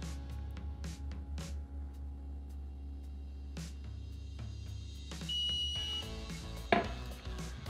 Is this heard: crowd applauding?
no